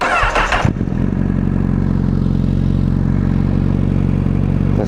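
A 2016 Honda CBR1000RR Fireblade SP cranks and fires up, then settles into a loud, throaty idle from an open, unbaffled full exhaust system, close and steady.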